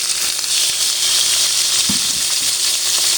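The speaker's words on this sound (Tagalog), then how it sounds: "ilagay na natin yung ating liempo." Pork belly (liempo) for pinakbet fries in a pan, a steady loud hiss and sizzle of hot oil throughout, with a few faint stirring knocks beneath.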